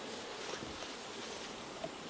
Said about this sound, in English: Lots of honey, lots of bees.